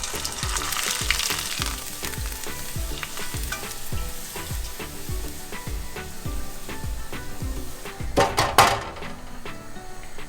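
A small handful of rice frying in hot oil for Sev Mamra, crackling and sizzling steadily with dense popping bursts, swelling louder near the end before settling back.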